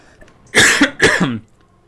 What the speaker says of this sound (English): I just forgot to mute my microphone when I coughed